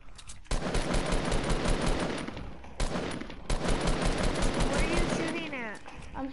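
Rapid automatic gunfire in a shooter video game, long loud sustained bursts with a brief pause between them, close and dense, ending as a voice starts talking.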